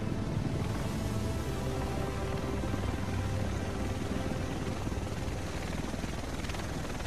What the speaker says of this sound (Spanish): El resto tienen que estar en ese helicóptero.